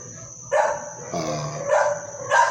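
A small dog barks at the entrance of a building, giving a few separate yips and barks a short distance away over a steady high background whine.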